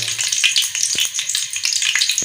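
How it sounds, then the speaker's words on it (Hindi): About half a kilo of ghee heating in a wok before frying cauliflower pakoras, giving a steady bright sizzle with scattered crackles and a few low pops, close and continuous. "अभी हम घी डाल लेते हैं पकौड़ों को, गोभी के पकौड़ों को फ्राई करने के लिए।"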